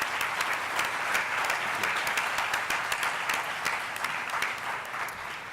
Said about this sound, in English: join me in a big round of applause for all of our sponsors and partners